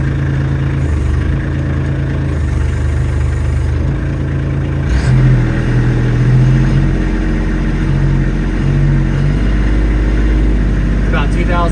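Kubota LX2610 compact tractor engine cranking over and settling into a steady, loud mid-pitched idle up close, with a slight change in tone partway through.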